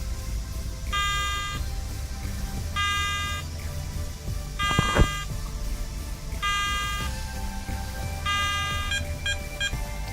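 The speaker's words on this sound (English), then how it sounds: "you will hear 3 beeps to confirm" Beeps from a Garrett ATX metal detector confirming its frequency scan, heard as repeated evenly spaced electronic tones over a low steady hum, with a brief click partway through.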